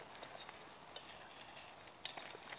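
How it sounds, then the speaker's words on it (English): Faint, steady sizzling of butter in a frying pan, with soft crackles and a few small pops scattered throughout. "butter's all nicely melted and sizzling away in there"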